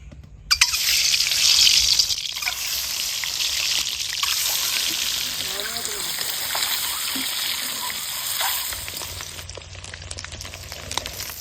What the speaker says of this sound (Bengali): ডিমগুলা কিন্তু খুব ভালোভাবে একদম কড়া করে ভাজি নিয়ে এবার একে একে ওঠাই নিব।